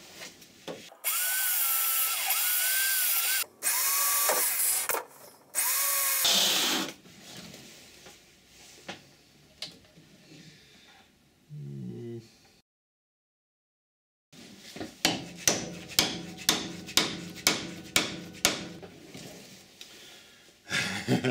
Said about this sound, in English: result of my hammering and banging and whatever